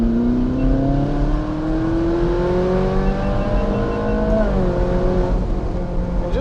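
A Ferrari 458 Spider's V8 screams on an open country back road, its loud, steady tone climbing through a long rising pull before easing off near the end.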